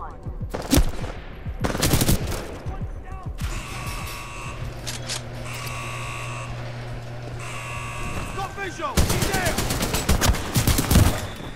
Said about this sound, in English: Point blank with a shotgun